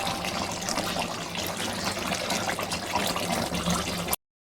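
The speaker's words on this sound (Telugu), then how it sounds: "ఇదే పెద్ద కాలువ, మన మల్లన్న సాగర్ నుంచి వచ్చే వాటర్ అన్నీ ఇవే." Water rushing steadily through a large canal fed from Mallanna Sagar reservoir, a continuous broadband flowing roar, fairly close and unbroken, with no voices over it.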